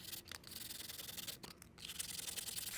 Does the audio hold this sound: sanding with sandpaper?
yes